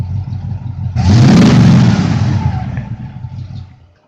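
A 1967 Pontiac LeMans drives by on the road, its engine rising into a loud, close revving roar that holds for a couple of seconds and then fades as the car moves away.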